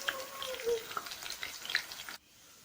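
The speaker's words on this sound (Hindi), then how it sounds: "और अच्छी तरह से जो है जिंजर गार्लिक को फ्राई करेंगे।" Ginger garlic paste fries with golden onions in a pan for dal, a steady close sizzle with faint stirring that cuts off abruptly near the end.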